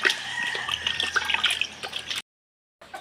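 Pigeons are bathed by hand, with water splashing and dripping steadily for about two seconds, then a brief silence before the splashing resumes, close by and with no speech.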